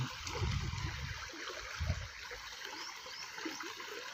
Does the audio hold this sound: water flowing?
yes